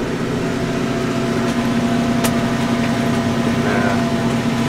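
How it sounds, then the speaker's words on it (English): A tractor engine drones steadily at close range, pulling a box scraper that levels freshly excavated dirt; a constant low hum holds throughout without any change in pace. "I'm in the tractor now with a box scraper just leveling off some of the dirt that we pulled out"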